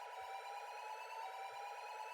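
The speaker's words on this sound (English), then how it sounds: "You guys can hear the fire sirens in the distance as they're approaching to deal with the alarm." Fire sirens wail in the distance, their steady tones held and gently wavering, faint and distant over a quiet background.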